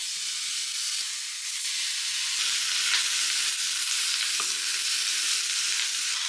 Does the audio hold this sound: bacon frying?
yes